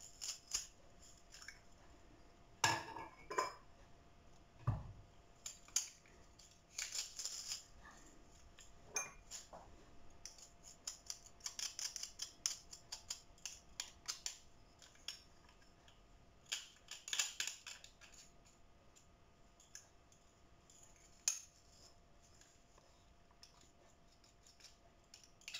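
Garlic being squeezed in a garlic press while making a fish tagine, heard as faint, scattered metallic clicks, squeaks and clinks at an irregular pace in a quiet kitchen.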